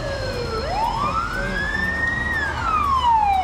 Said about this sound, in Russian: Это скорая помощь летит.